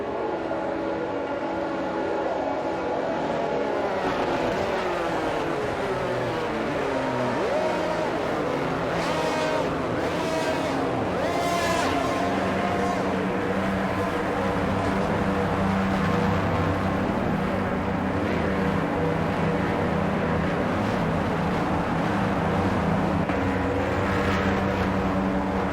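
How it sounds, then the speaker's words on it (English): Formula 1 cars at the 2022 Spanish Grand Prix driving back toward the grid before the race start: several engines whine and rise in pitch as they pass, layered over a constant crowd and track hum. "As the cars come back towards the grid to line up for the start of the race"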